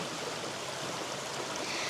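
River water rushes and burbles in a continuous soft wash, steady and moderately near with no voices.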